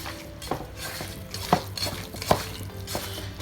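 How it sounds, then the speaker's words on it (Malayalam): Raw beef being mixed by hand with spices and a splash of vinegar, wet squelching handling with soft clinks against the bowl, a few sharper knocks standing out, close and moderately quiet with no talk. "എന്നിട്ട് നല്ലോണം കൈനെ കൊണ്ടൊന്ന് മിക്സ് ചെയ്യാം."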